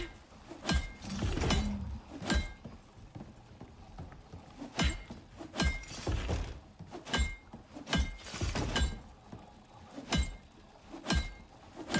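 A hammer smashing glass in the video game Icarus, a series of sharp cracking impacts spaced irregularly about a second apart, fairly close, with no talking over them.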